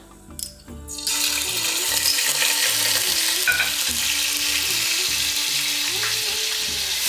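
Two tablespoons of ginger garlic paste hit a hot pan over medium heat for a restaurant-style korma sauce, and after a quiet second a loud, steady sizzle takes over and holds, with soft background music beneath.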